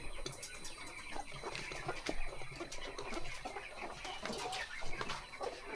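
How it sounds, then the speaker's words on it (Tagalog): Chickens cluck and squawk on a farm, a busy, continuous chorus of overlapping calls at moderate distance amid general outdoor commotion. "Mayroon doon manok na sa bukid."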